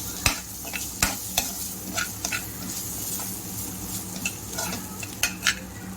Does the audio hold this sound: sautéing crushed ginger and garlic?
yes